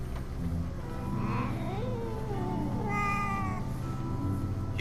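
Cat meowing in the video game The 11th Hour, with several drawn-out, wavering meows over a steady background drone, clear and close.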